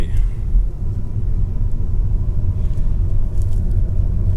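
A line of cars idles and creeps forward at a busy state park entrance, a steady low engine rumble heard from inside a vehicle, continuous and fairly loud with no talk.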